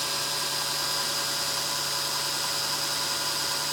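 A handheld drill spins a neck turning tool along a brass rifle cartridge case, a steady, even whirring hum at partial trigger speed, continuous and close with no voices.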